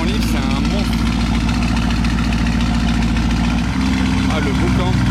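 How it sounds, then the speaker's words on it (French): An engine with an open, unmuffled free-flow exhaust idles loud and close, a heavy continuous rumble throughout, with voices talking over it. "Il a un échappement libre, c'est un monstre."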